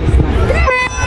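A loud horn blast signals the start of a bridge-building race, ringing out steadily over a lively crowd with voices and cheering underneath.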